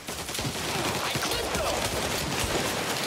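Rapid, dense gunfire from Mafia Definitive Edition rattles on without a break, loud and close, with faint voices mixed under the shooting.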